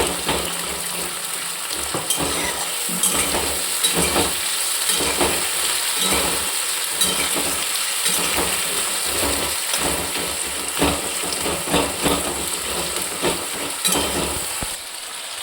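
Onions sizzle in a hot pan for chicken curry, a continuous crackling fry with occasional stirring scrapes and bursts, loud and close throughout.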